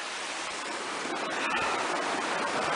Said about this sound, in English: we've been following this ravine river or creek in a mountain gully